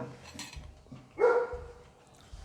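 A dog outside a home gives a single short, loud bark over faint clinking kitchen sounds, with no talk.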